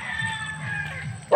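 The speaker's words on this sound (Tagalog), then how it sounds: "Lahat ng manukan dyan, natahol pa ang aso," A dog barks at a chicken coop in a string of several muffled, fairly distant barks, followed by a sudden louder sound at the end.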